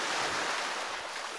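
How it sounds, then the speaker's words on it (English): Sea waves wash steadily onto a palm-lined white-sand beach in Penang, Malaysia, a continuous broadband surf rush with some wind buffeting the microphone and no voices. "and there is the sea."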